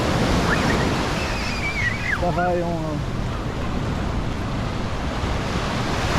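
Ocean waves washing along the shore at Waikiki on Oahu, a loud continuous roar with wind noise on the microphone, while someone speaks briefly over it.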